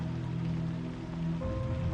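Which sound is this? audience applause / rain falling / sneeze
rain falling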